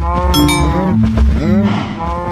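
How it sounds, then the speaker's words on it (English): Cows crammed into a corner in Minecraft low out in several overlapping moos, loud and close, one following another with no pause and no talk. "Why are there so many cows crammed into the corner?"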